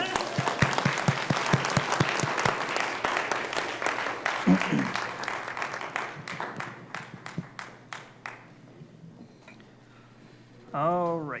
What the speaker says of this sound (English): One last clap.